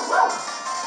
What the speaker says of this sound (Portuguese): E meu cachorro trolando. Trolando o vídeo